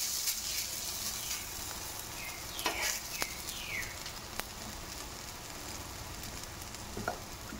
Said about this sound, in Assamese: কেৰাহীখন বেছিয়ে গৰম হ'ল ইফালে অলপ তেলটো ৰঙা পৰি গৈছে